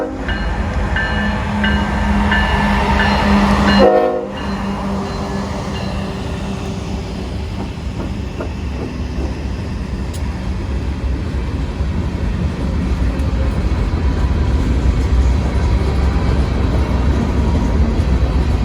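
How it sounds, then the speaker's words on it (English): A CSX manifest freight train rolls past on a reroute from the Georgia Road near Fairburn, a steady loud rumble and clatter of rail cars continuing throughout with a brief dip early on. "reroute manifest freight train that had just come from the Georgia Road in Augusta due to the Fitzgerald sub curfew"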